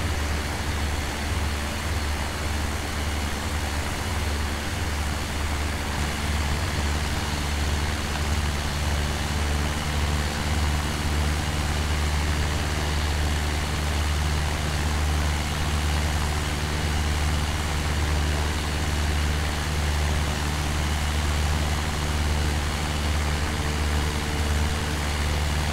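Steady, loud drone of a light aircraft engine in flight along the coast near Stackpole Head, West Wales, holding an even low-pitched hum throughout with no talk.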